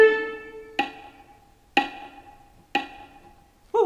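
Quick sixteenth notes played on a pitched instrument, an opening held tone followed by three evenly spaced sharp attacks and a final one, each ringing briefly and close, with no voices.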